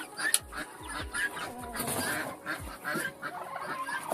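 Chickens cluck and murmur nearby while pecking for mealworms, with soft repeated clucks and a few louder calls over scratching and rustling.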